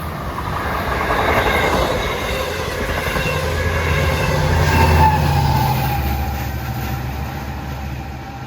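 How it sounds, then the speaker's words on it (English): An LIRR commuter train on the Port Jefferson to Long Island City run pulls into Forest Hills station on track 2 during morning rush hour, a loud close rumble that swells and eases, with wheel squeal and rail clatter and no voices. "On track 2, here comes train 609, Port Jeff to Long Island City."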